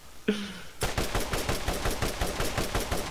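Rapid automatic gunfire from weapons in the video game Borderlands, a loud continuous burst of close shots in a fast steady rhythm that starts abruptly after a brief tonal game sound.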